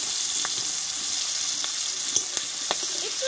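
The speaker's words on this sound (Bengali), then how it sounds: "একটু নাড়িয়ে নেব আমি।" Raw mango pickle in a pan is stirred with a spoon, a steady close frying sizzle broken by a few sharp scraping clicks against the metal, no voices.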